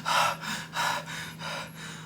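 A voice imitates a woman panting, with three or four breathy gasps in a steady rhythm, close and moderately loud, with no other talk.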